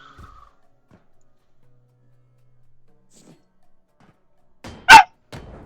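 A dog gives one loud, close bark near the end, followed by a softer sound, after several seconds of near silence.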